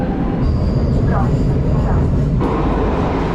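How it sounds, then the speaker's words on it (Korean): Inside a Lisbon metro subway train, a loud, steady rumble of wheels and motors fills the car. Faint passing tones ride on top and a voice is heard briefly. "포르투갈 처음으로 지하철 타고"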